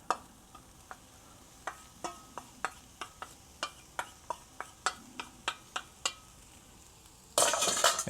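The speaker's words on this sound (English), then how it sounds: "I'm going to grab my soy curls, dump them in the skillet." Soy curls and onions cooking in a dry skillet, with a regular series of crisp spatula taps and scrapes against the pan, about two per second, fairly quiet, ending in a brief louder rush.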